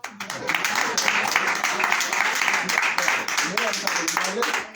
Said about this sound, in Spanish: un fuerte aplauso para Carol